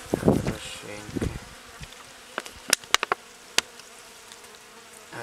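Honeybees hum softly around the hive during varroa mite treatment, with scattered sharp clicks and knocks from handling close by.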